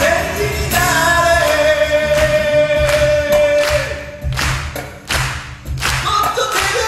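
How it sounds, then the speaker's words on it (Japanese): Steady rhythmic hand clapping keeps time with a live cover of a song, the claps landing as sharp repeated beats over the singing and accompaniment. "もっと手拍子、あなた手拍子"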